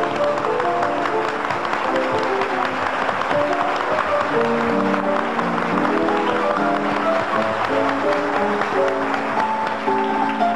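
A live audience applauds in welcome as a singer is introduced at a piano-backed show, a continuous wash of clapping lasting several seconds that blends with piano and band notes playing underneath.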